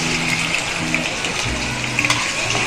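Prawns sizzle in a pan with fried chilli and black cumin, giving a steady frying hiss with a faint tonal hum running underneath.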